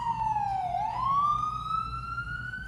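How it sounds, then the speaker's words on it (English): A New York City ambulance siren wails close by, one loud sweeping tone dipping and then rising slowly and continuously over low street rumble. "the wailing siren is part of the symphony of the streets"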